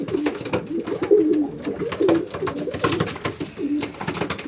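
A dark checker cock fancy pigeon coos repeatedly in soft, throaty, rolling phrases close by, with scattered clicks and shuffling sounds in a loft.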